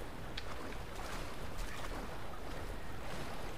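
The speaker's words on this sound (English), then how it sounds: "Oh, that's just the water machine." A water machine runs in the sewers of Amnesia: The Dark Descent, giving a faint, continuous rushing and sloshing drone with no clear breaks.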